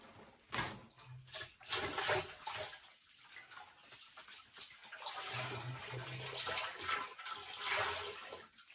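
Water sloshes and splashes in a tub as two skinned coyote pelts are squeezed and pulled through dirty wash water, uneven surges of gurgling and dripping, fairly close, with no talking.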